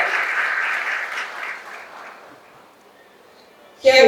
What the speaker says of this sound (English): Please let's clap for them as well.